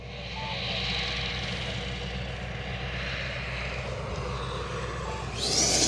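An E-flite Viper 90mm electric ducted-fan RC jet makes a flyby over the runway, a steady loud whooshing whine that holds across the pass before a brief surge near the end.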